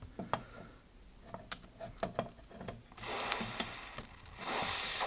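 Contact cleaner sprays into the controls of a Marantz MR 250 unit in two short hissing bursts, the second louder. Faint clicks and small handling knocks come before the bursts.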